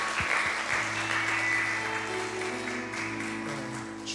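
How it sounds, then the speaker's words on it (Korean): Congregation applauding together at the close of a Korean church worship service at an Air Force base church, a steady sustained wash of many hands clapping, with an organ or keyboard chord sounding underneath. "우리 하나님께 영광의 박수 올려드리겠습니다."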